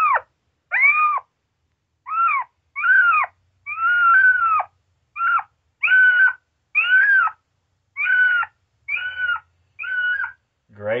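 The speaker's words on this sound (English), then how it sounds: "Kitten distress." Cass Creek Predator 2 electronic predator call playing a kitten distress sound, a loud, close series of about a dozen short wavering meows, evenly spaced with brief silent gaps between them.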